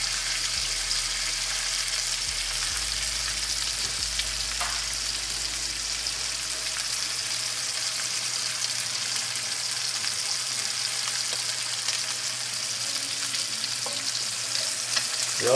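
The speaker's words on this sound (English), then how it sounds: "you want all those flavors from the butter and the oil and steak to go back onto the top, so we're just basting them" A New York steak sizzles steadily in a pan of hot butter and oil as it is basted, a dense continuous frying hiss that stays close and even throughout with no talk.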